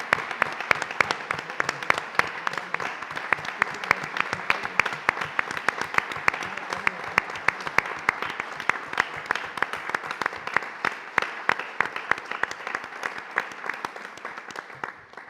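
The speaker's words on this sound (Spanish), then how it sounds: "Por favor, un aplauso." Dense, steady applause from a conference audience at a human rights event, many hands clapping continuously for about fifteen seconds, loud and full throughout before easing slightly at the very end.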